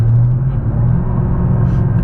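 A Shelby GT500 V8 idles at low RPM with a steady, deep, loud rumble throughout; a voice talks over it.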